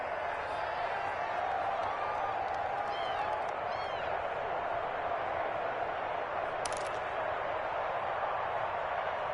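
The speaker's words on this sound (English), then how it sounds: "the crowd getting into it as we come up on a big 3rd down" An American football video game crowd on a big third down, a steady distant roar with scattered whoops and cheers throughout.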